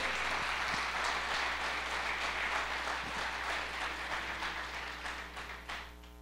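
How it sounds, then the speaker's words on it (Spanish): A church congregation applauds, a dense steady clapping that fills the room throughout and fades slightly toward the end, with no talking over it. "dale un aplauso a Dios"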